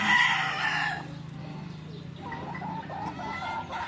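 A rooster crows loudly at first, then chickens cluck and murmur softly nearby in a farmyard.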